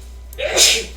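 A single sneeze, with a short intake followed by a sharp, hissy burst, sounds close and fairly loud over quiet room tone.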